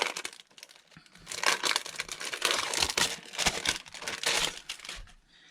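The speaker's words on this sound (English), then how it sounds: "sometimes I'm just going to open these botanical stickers." Crinkly plastic crackling and rustling as a package of laminated botanical stickers made from real pressed flowers is torn open, busy bursts of crumpling close by with brief pauses, no talking.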